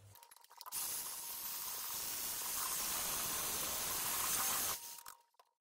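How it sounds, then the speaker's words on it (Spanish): Eggs and mashed bananas are beaten together into banana cake batter, making a steady, hissing whir that runs for about four seconds, then stops abruptly. "Y volvemos a batir."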